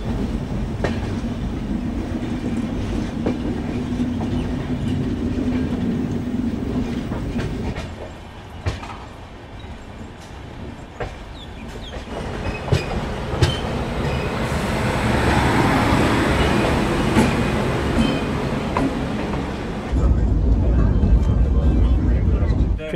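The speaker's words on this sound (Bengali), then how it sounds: "হাওড়া স্টেশন থেকে 2 মিনিট লেটে ছাড়লো।" A Howrah to Digha passenger train runs on the track with a continuous rumbling roar and rattling carriage noise that swells and fades. Brief clicks are heard over it, and the rumble grows louder and heavier near the end.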